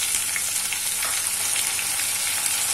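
Chopped onions, garlic and tomatoes fry in a pan for an aloo chana masala, giving a steady, dense sizzle with faint crackles throughout, close and continuous with no talking.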